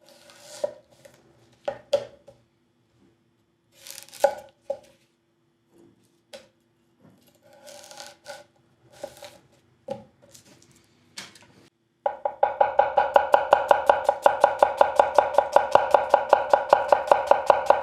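A Shiro Kamo 165mm nakiri knife chops through an onion, a loud, rapid, steady train of crisp blade taps on a board after a stretch of scattered quieter handling noises.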